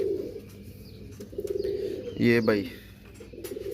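Domestic pigeons coo in a breeding loft with nesting pairs rearing squabs, a low throaty burst swelling near the middle over a steady bed of softer cooing, while someone speaks briefly.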